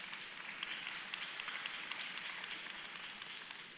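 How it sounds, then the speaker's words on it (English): Applause from high school seniors at a graduation-season ceremony, faint, distant and continuous clapping from a large group with no voices over it. "Give them another round of applause, seniors"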